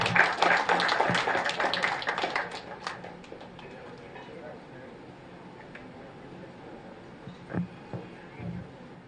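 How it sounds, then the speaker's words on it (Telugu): Applause for Jayaprada at a BJP Seva Pakhwada gathering swells loudly in the first couple of seconds as a dense crowd clatter, then thins to scattered claps over a murmuring room. "జయప్రద గారికి గట్టిగా చప్పట్లండి."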